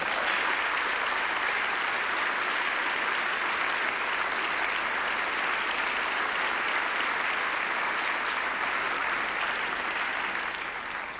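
An audience at a televised lawyers' debate applauds steadily for over ten seconds, a dense, even wash of clapping from a large crowd with no voices.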